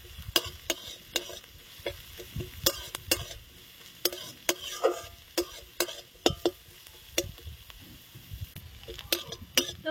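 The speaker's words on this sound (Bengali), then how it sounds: "এবার ভালো করে ভেজে নেবো লাল লাল করে।" Onions fry with black cumin, dried red chillies and green chillies, a low sizzle under frequent sharp clacks of a spatula stirring against the pan, close and fairly quiet.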